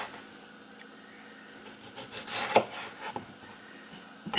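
Knife slicing a large tomato into thin slices on a cutting board, giving soft scraping cuts with a few sharper taps, close and fairly quiet.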